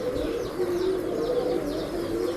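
Breeding pigeons coo in a repeated low rolling rhythm, close and clear, with faint chirps and a soft flutter around them and no talking.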